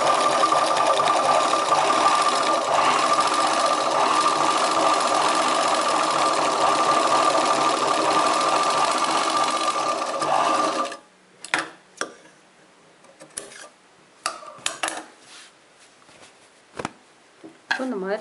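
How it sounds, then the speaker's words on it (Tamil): An electric sewing machine runs a second line of stitching about a quarter inch in along a chudidar top's sleeve, a loud continuous whirring drone for about eleven seconds, then stops, leaving sparse clicks and handling knocks. "அதாவது இதோட சிங்கிள் ஃபுட் அளவுக்கு நான் வந்து ஒரு தையல் போட்டுக்கோங்க"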